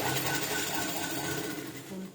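Sewing machine stitching a blouse lining, a brief close mechanical whirr that runs steadily and then slows, with no talking.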